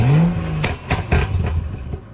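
A BMW F30 sedan engine blips up in one sharp rev that falls away, followed by a few quick throttle stabs and clattery idle, close and loud outdoors.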